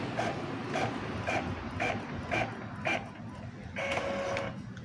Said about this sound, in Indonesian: Di sini saya akan mencoba print test kemudian mencetak.